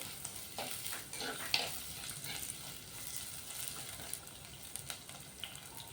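Thinly sliced shallots for a Kerala fish curry fry in a pan with ginger and garlic, giving a steady, moderate sizzle broken by soft stirring scrapes, with no talking.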